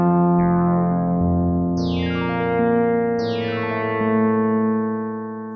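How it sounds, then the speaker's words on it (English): A moody synthesizer patch plays a few sustained chords, each swelling in with a bright attack and decaying slowly, widened in stereo and washed in reverb, with no voices. "Let's crank the stereo spread and turn on the reverb section."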